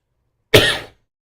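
A single short, sharp cough bursts out of silence, close and dry, lasting under half a second before it fades to quiet again.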